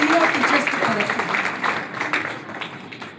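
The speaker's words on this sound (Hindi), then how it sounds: "एक बार जोरदार तालियां सीनियर्स की तरफ से भी होनी चाहिए," An audience of nursing students and teachers claps at a college function, a dense, steady burst of applause that slowly fades, with a voice partly heard over it.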